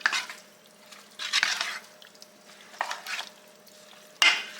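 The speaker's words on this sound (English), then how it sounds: "Now I'm just going to kind of stir this around and get it mixed together" Vegetables stirred in a soup pot make several separate scraping, rustling strokes, close and fairly loud, with quiet gaps between them and a sharper clank at the end.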